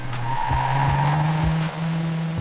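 A car in an animated horror short skids as it turns on its own, a sustained tire squeal over a low engine drone with a few rhythmic thumps and a brief dip near the end, close and without voices.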